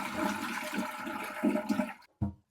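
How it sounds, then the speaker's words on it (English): A toilet flushes in a bathroom fitted with a bidet seat. The water rushes steadily for about two seconds, then cuts off abruptly, followed by a brief final gurgle. The sound is close and fairly loud, with no talking. "You look in your toilet and flush."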